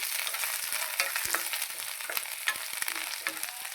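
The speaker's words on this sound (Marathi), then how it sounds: "आता खोबरं आलं आणि लसूण छान असा परतला" Coconut, ginger and garlic with coriander stems sautéing in a pan, giving a continuous dense sizzle with scattered taps and scrapes from a spoon as it is stirred, close and steady with no speech.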